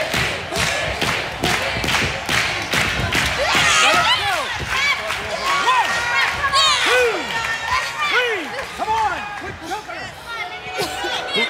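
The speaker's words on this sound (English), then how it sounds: "Yeah, the adoring crowd. We're all chanting Mickie." A wrestling arena crowd at a women's tag match roars and chants continuously, with loud thuds and slams from the ring and a commentator talking over the noise.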